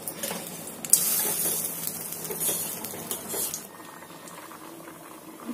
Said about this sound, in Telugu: మళ్ళీ ఈ నూనెలోనే ఎండుమిరపకాయలు వేసి వేపుకోవాలి.